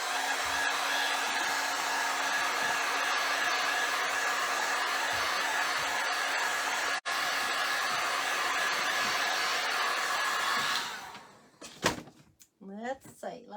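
A heat tool or hair dryer blowing to set ink on a papercraft project, a loud steady whooshing hum held close for about eleven seconds, followed by short clatter and handling noises with a voice speaking briefly at the end.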